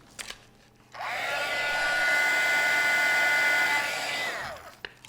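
Heat tool blowing on holes in a plastic soda bottle, a steady high whirring blast that switches on after a second, runs evenly for about four seconds, then cuts off, with light handling clicks around it.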